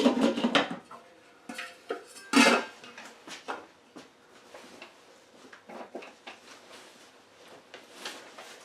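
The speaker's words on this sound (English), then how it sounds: "Put the lid on this." A lid set onto a cooking pot of corn mash, with clattering metal knocks and scrapes early on, then scattered lighter clinks and taps of kitchenware spread across the stretch, close and without speech.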